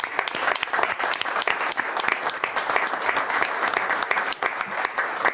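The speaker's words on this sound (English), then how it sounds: "That's a good clap." An audience at an Ogden city council meeting claps steadily, a dense, even applause of many hands that holds at the same level throughout without a break.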